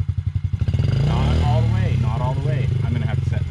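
A Yamaha TTR50 dirt bike engine revs up and holds a steady drone while a child and an adult talk over it close by.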